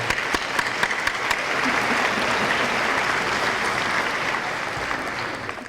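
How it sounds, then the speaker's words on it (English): A large audience at a Hall of Fame gala breaks into applause, a thick, sustained wash of clapping that swells, holds steady for several seconds, then begins to taper. "let's give a big round of applause for Pastor Parker"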